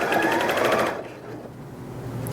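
A Janome 3160QDC sewing machine stitches fabric in a loud, rapid whir of needle strokes for about a second, then stops, leaving quieter mechanical hum and faint clicks.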